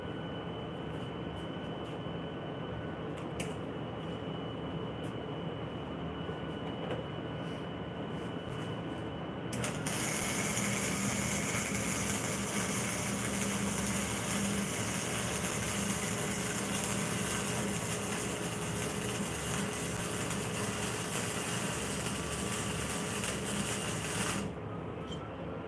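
Flux core welding lays a bead on metal, a steady crackling hiss that runs continuously and grows brighter for about fifteen seconds in the middle before cutting off, with a low machine hum underneath throughout.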